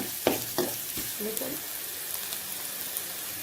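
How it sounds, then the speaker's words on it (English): Chicken frying with curry leaves in a pan, a loud close sizzle with several clattering stirs of a spoon near the start, then the hiss continuing on its own. "So just stir them, like I said, until it becomes brown in color."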